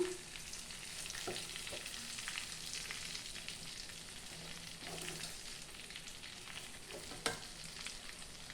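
Eggplants fry in a generous amount of oil for a Tenali-style nune vankaya fry, making a continuous, fairly faint crackling sizzle with a few light clinks from the pan. There is no talking.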